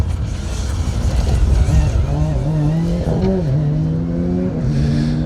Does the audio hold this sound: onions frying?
no